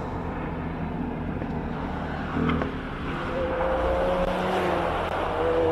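A race car on the Simola hillclimb course produces a constant engine drone that rises in pitch and grows louder near the end as it nears, a steady roar heard from a distance.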